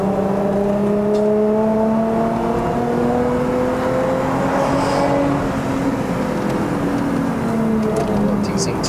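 Remapped Lexus IS250 XE20 accelerating hard on a mountain road up to Genting in Malaysia, a sustained loud engine drone with rising and falling tones from inside the car, and someone talking over it.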